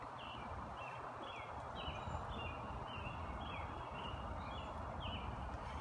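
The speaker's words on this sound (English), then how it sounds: "listen to the robin singing" An American robin sings a series of clear, whistled phrases over steady background noise, faint and somewhat distant, repeating every half second or so.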